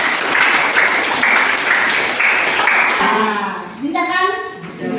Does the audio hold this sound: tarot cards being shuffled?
no